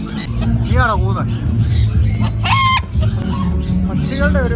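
Chickens and other fowl cluck and squawk at a festival bird display with pigeons and assorted birds, several rising calls standing out over steady crowd chatter and background din.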